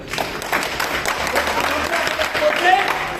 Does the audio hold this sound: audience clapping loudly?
yes